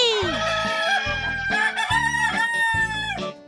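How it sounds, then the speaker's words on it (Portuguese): A hen and rooster on a small ranch call in close succession: a drawn-out crow followed by rhythmic, repeated clucks and squawks, loud and near, with no speech. "Bonitinha é uma galinha muito feliz e amorosa que mora no ranchinho do Gavião."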